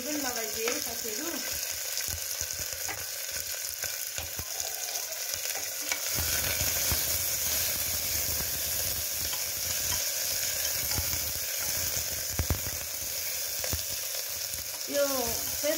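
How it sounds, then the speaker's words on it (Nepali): Sliced onion and two green chillies fry in hot oil in a pan for a Nepali local chicken curry. A continuous close sizzle runs throughout, with scraping stirs, and a brief voice is heard at the start and end. "अब यहाँ म प्याज हाल्दै छु।"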